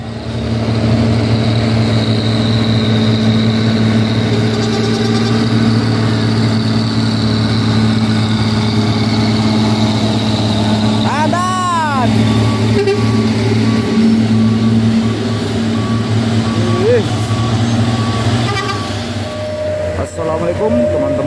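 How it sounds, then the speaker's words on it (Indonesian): Heavy trucks grind up a steep hill road, engines droning loud and steady with low rumbling tones throughout, a horn-like wavering tone briefly rising midway. "di siang ini kita melihat banyak truk menanjak"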